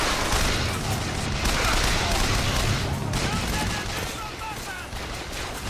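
Gunfire in Bioshock Infinite combat during the Vox Uprising, with a loud, steady barrage of shots and rapid fire over busy battle noise, a voice speaking over part of it.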